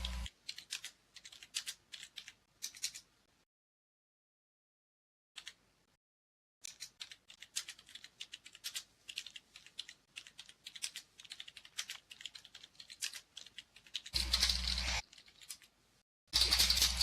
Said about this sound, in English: Keyboards are going at it.